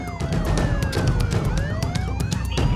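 A police car siren wails nearby as the car speeds to a call, its pitch sweeping up and down in long glides over a low rumbling engine, loud and continuous.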